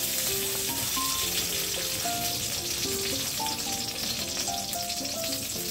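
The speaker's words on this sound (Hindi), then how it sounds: "एक से डेढ़ चम्मच ये देसी घी डालते हैं" Desi ghee sizzling in a hot kadai, a loud, steady, close frying hiss that runs unbroken through the whole stretch with no talk over it.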